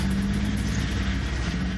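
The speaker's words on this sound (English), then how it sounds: "That is the sound of Israeli tanks in Gaza" Israeli tanks moving in Gaza during wartime, a steady low engine rumble and grinding drone that stays loud and unbroken the whole time, with no voices.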